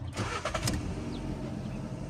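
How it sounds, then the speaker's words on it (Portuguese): A Jeep engine starting after a switchblade key repair, a brief cranking burst settling into a steady close idle rumble that holds to the end. "Prontinho, o carro já está funcionando novamente aí, ó."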